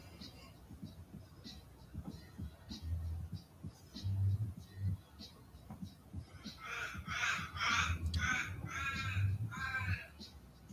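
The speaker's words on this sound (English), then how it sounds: "I'm sick of hearing these crows" Crows cawing outdoors, several harsh calls at first and then a louder rapid cluster of caws near the end, mixed with low thumps and background murmur.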